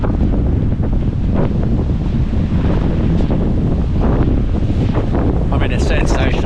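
Strong gusting wind roars continuously across a mountain valley on the Kosciuszko high country, loud and broadband, buffeting the microphone throughout with a faint higher whistle near the end.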